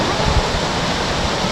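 Steady, loud broadband roar of a waterfall heard up close from behind the falling water on a hike, a continuous wash of noise with no talk.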